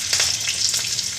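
Hot oil crackles and sizzles steadily in a pan, ready for tender radish greens and green chilies with gram flour, a close, continuous frying hiss with small pops and no talking.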